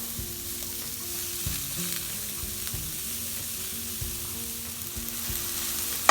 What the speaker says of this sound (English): we're gonna saute the onions and the mushroom.